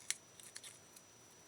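Scissors snipping through stiff watercolor paper for a papercraft postcard pocket, a sharp close crisp cut followed by a few softer quieter snips, faint overall.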